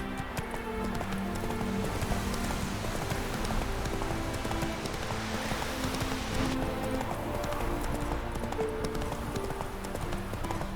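Roach the horse trots in The Witcher 3, a steady rhythmic clip-clop of hooves that is close and continuous, with light pattering ambience behind it.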